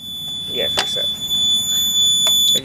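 A Siemens SXL-EX fire alarm control panel sounds a steady high-pitched tone after a slight delay, continuous throughout, with a person speaking over it and brief clicks.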